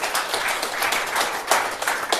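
Audience clapping at a seminar forum lecture, a lively crowd of hands with individual sharp claps audible in an uneven, steady patter at moderate level.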